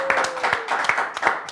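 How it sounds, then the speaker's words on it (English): A brief burst of audience applause for children at a school award event, with scattered claps at moderate volume and a voice faintly underneath. "Come on, everyone, let's give them a round of applause."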